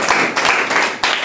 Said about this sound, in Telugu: గట్టిగా చప్పట్లు కొడి దేవుని మైండ్ పడదాం.